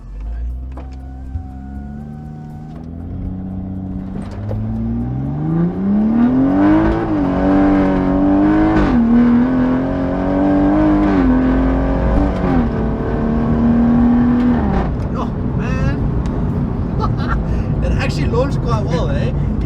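A hybrid-turbo BMW M140i launches from a standstill: the engine rises from a low idle into a loud, climbing rev, shifts and pulls hard again, then ends in roaring, crackling acceleration, close and powerful throughout.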